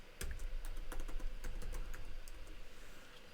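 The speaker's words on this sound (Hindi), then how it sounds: "हम लोगों ने वहाँ पर जो पासवर्ड दिया था उसको टाइप कर देते हैं" Rapid keystrokes on a computer keyboard as a password is typed in, a steady run of close, crisp clicks with no talking.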